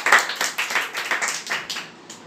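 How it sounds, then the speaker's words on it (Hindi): Students in a classroom biology lesson clap their hands in a quick, loosely rhythmic burst of close, moderately loud claps that trails off near the end. "तालियों बजा दिया करो यार"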